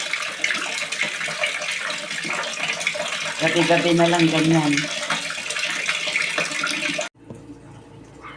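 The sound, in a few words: water running from tap after water service returns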